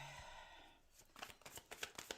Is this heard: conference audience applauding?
no